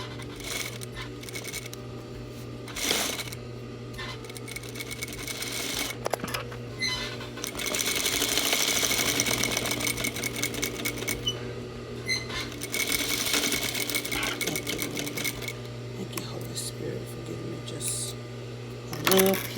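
A sewing machine stitches pajama fabric close by in steady runs of rapid rhythmic needle clatter, with brief pauses and a quiet background hum.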